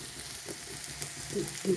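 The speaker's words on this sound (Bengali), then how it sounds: "যতক্ষণ পেঁয়াজটা ভাজা হচ্ছে" Onions fry in a pan for a steamed egg dish, giving a faint, steady sizzle with a few soft stirring scrapes and no talking.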